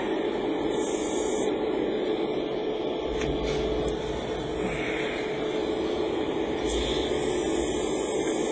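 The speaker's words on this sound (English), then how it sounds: "when I am airbrushing, I'm not pointing directly at the piece and then pressing the trigger down" An airbrush sprays paint onto Gunpla model parts in a continuous soft hiss, steady and close throughout, with brief higher bursts as the trigger is worked.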